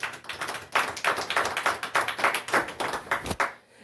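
A church congregation claps in brisk, fairly even rhythm, a close, lively burst of many hands lasting a few seconds before fading out.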